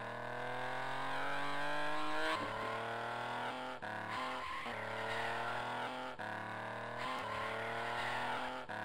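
Race car engine from the 1000 Miles Rally arcade game, driving a Bugatti: a loud, continuous engine drone that shifts pitch through gear changes, with brief dips and tire-skid textures, and no voices.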